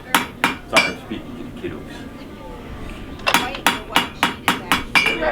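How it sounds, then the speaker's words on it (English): Hammer blows ring on hot metal at a farm forge, a rhythmic run of sharp metallic strikes, a pause while a person talks, then another quicker series of close, loud hits. "With metal this hot, it moves with your hammer, almost like you playing with Play-Doh with your hands."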